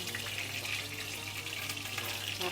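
Austrian schnitzel sizzling in a frying pan, one side already browned; a steady, dense crackling hiss of hot fat continues evenly throughout, close and moderately loud, with no talking.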